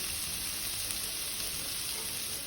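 Carrot and potatoes cooking in a pan over a medium flame for a mixed vegetable kara kuzhambu gravy, giving a steady, even sizzle and hiss close by with no voices.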